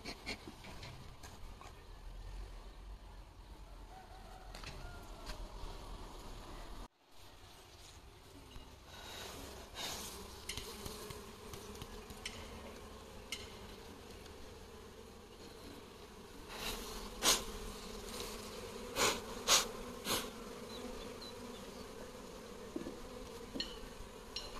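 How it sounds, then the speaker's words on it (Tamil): Honey bees swarm around an opened hive, a steady close buzzing drone with louder passing bees flying near toward the end, and no talk. "நம்மளோட தேனீக்கள் அவ்வளோ சீக்கிரம் வந்துட்டு கடிக்கிறதில்ல,"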